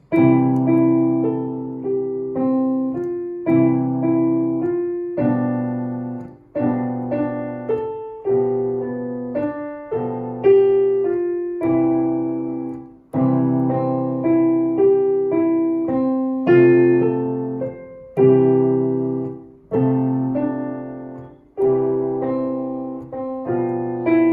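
Solo piano plays a simple warm-up exercise, repeated chord patterns in a steady moderate rhythm, clear and close with no talking.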